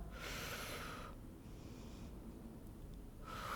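Deep breathing during a pilates exercise, two long airy breaths, close and steady, with a quieter stretch between them.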